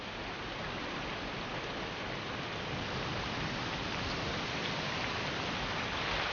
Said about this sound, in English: this storm is only the first of a whole string of others. rolling over the Hebrides, full of rain.